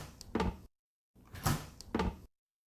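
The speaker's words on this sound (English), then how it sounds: "This is the fridge opening." Fridge door pulled open twice, each a soft seal-release whoosh followed by rattling clicks from the door shelves, close-up with a pause between the two openings and no talking.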